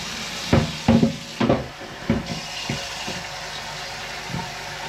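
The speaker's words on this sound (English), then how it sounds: "Fill with water straight from your cold tap to the internal black line." Cold tap water running into a Pinter home-brewing vessel up to its fill line, heard as a few splashy gushes early on that settle into a quieter steady pour.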